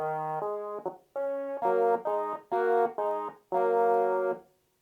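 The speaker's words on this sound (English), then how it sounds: "so I'm using quite a muted brass sound" Muted brass patch on a synthesizer, played as a series of short, punchy chords with clear gaps between them. The chords are loud, close and free of any talk.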